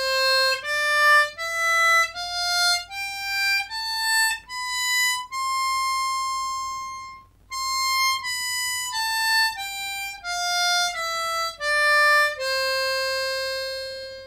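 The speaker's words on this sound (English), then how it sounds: "So that's the major scale in the middle of the harmonica" A C diatonic harmonica in first position plays a major scale up and then back down, each clear reedy note held about a second, loud and close with no voices.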